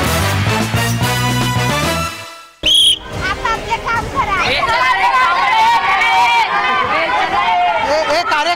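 Sharp whistle blasts ring out over a noisy, bustling crowd, with shouting voices and chatter all around.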